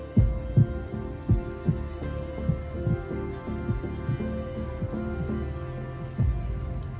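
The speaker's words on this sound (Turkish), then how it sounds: "Buradan bile duyulan kalp atışın." A deep, steady heartbeat thumps in a regular rhythm over a low hum, loud and close with no talking.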